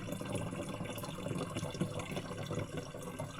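Water flows steadily in the countryside, a continuous soft trickling and babbling with no voices.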